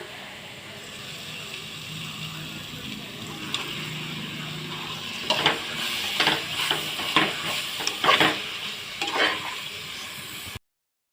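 Masala for chicken biryani sautéing in a pressure cooker makes a low steady sizzle, with a run of brisk scraping stirs starting partway through before the sound cuts off abruptly.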